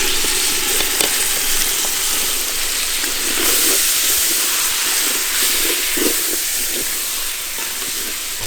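Tomatoes frying in ginger garlic paste for jackfruit biryani, a loud, steady sizzle and hiss from a hot pan with faint stirring, no voices.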